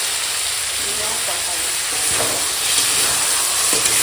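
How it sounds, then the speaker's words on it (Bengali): Chicken and potatoes fry in oil with chilli powder, turmeric, Kashmiri chilli and salt, a steady close sizzle with occasional stirring scrapes and faint background noise. "মাংসটা এখন সুন্দর করে একদম কষানো হচ্ছে"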